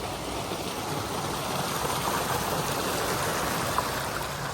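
Steady rushing of stream water flowing over rocks into a small pool beside a mountain trail, a continuous broadband wash close by with no talking.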